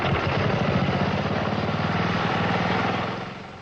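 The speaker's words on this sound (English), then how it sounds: "This engine is powered mostly by Mountain Dew, along with a bit of gasoline." A small lawnmower engine fuelled mostly with Mountain Dew and a bit of gasoline runs with a loud, steady, buzzing putter close by, then eases off slightly near the end.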